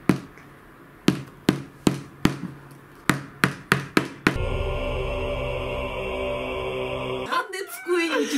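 Sharp hammer taps on a guitar cable ring out about ten times in an uneven rhythm, followed by a steady mechanical whine and a burst of rustling.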